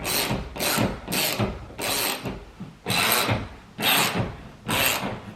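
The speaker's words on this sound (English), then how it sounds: "You guys hear the difference in the ratchet sound? Because you're really getting into that wood now." A hand ratchet drives a screw into a wooden wall stud for a TV mount, giving seven bursts of rasping, clicking ratchet strokes in a steady rhythm with short pauses between them, close and loud.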